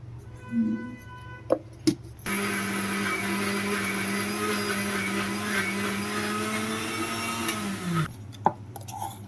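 Kitchen mixer grinder blending garlic cloves with chili powder, a loud continuous whirring drone of about six seconds, with clunks before and after as the jar is handled.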